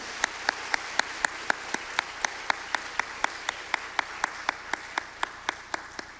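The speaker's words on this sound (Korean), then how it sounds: "우리 감사와 축복 담아서 박수 한번 드릴까요?" Slow, evenly spaced claps ring out one after another in a church congregation during a Sunday afternoon service, crisp and fairly quiet, with no talk over them.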